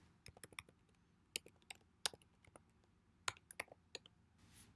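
Computer keyboard keys clicking as a website address is typed, an uneven run of sharp close taps in short bursts with pauses, ending in a brief soft hiss.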